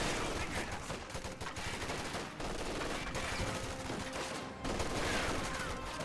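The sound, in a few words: rifle grenade firing and gunfire in Company of Heroes 2 video game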